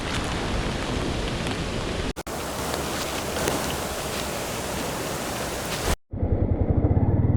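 Rain falls outdoors along a wild road with streams and water crossings, a loud, steady hiss broken by brief dropouts and followed by a rumbling, engine-like patch at the end.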